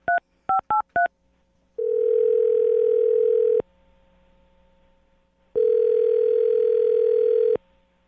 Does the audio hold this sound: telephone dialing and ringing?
yes